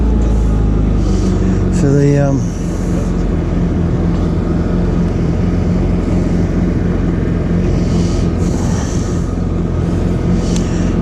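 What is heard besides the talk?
Kawasaki Ultra 310LX jet ski engine starting and running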